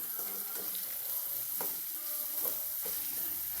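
Radish pieces with turmeric and salt being stirred in a pan on the stove, soft scraping strokes over a low sizzle, with a few sharper knocks of the spoon against the pan.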